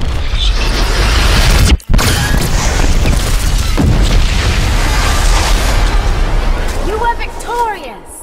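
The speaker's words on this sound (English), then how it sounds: "Orbital cannon, charge online." A heavy orbital cannon blast from the Infinite Crisis video game, a loud booming impact with rumbling debris and mechanical whirs, a sharp break partway through and fading sweeps at the end.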